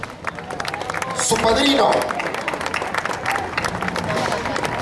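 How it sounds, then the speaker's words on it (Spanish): Crowd applause at a Parachicos recognition ceremony in January, broad clapping swelling mid-clip and fading under an announcer's amplified speech and crowd murmur. "Vamos a darle el fuerte aplauso al parachico Virgilio Marroquín Colmenares"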